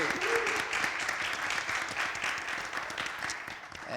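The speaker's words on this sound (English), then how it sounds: "can we have a round of applause for the panelists?" Audience applause for a panel of educators at a Black History Month discussion event, a steady dense wash of many hands clapping throughout, fairly loud and unbroken, tapering slightly toward the end.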